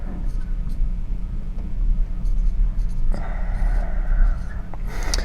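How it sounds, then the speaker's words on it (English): Marker or chalk writing on a board during a physics problem walkthrough, steady scratchy strokes over a low room rumble, with no speech. "we're going to write this down."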